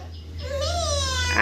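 A voice imitates a cat with a single drawn-out rising-and-falling meow, soft and close against a low background hum.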